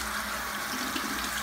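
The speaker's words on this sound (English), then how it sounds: "I'm just going to rinse this really well with hot water" Hot tap water runs steadily over drained pasta in a kitchen sink, a continuous close, even rush of water with no talking.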